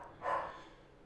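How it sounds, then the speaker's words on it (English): A dog barking once, a short muffled woof from across the room, faint and alone against a quiet background. "Hear my dog barking there."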